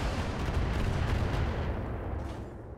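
A mech fires heavy weapons in the RogueTech video game, giving one long, dense roar of booming, rumbling gunfire that holds steady and loud before easing slightly.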